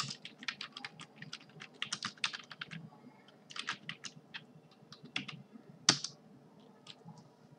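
Typing on a computer keyboard comes as bursts of rapid, crisp key clicks in quick clusters with short pauses, close and fairly quiet, with one louder sharp key press near the end and no speech.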